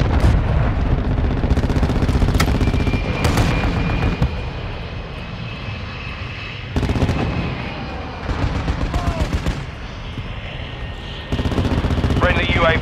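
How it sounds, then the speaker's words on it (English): A cruise missile strike in Call of Duty: Modern Warfare comes as a loud roar of aircraft engine noise and bursts of explosive gunfire and artillery. Heavy blasts come in several waves and fill the whole scene, and a voice talks over them. "Friendly cruise missile approaching target."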